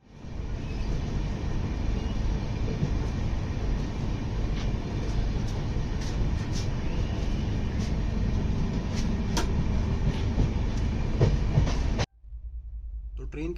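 Steady rumble and rattle of a moving Bandra to Ajmer passenger train heard from inside a coach, continuous and loud for about twelve seconds before dropping to a quieter hum; a voice may talk faintly underneath.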